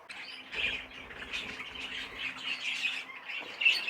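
Budgerigars chirp and squawk continuously in a busy, chattering flock, fairly faint and close, with no talking.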